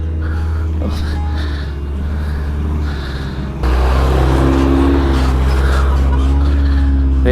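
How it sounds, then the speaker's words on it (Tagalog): A loud 4x4 off-road vehicle passing close on a dirt trail, a steady low engine rumble that jumps sharply louder midway and stays heavy and near. "Lakas ng mga sasakyan na 4x4 po siguro lahat to"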